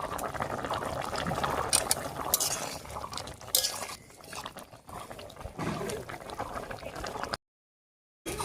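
Pumpkin stems and leaves bubble and simmer in an uncovered pot on the stove, a steady close wet boil with a few faint clinks, briefly dropping to silence near the end.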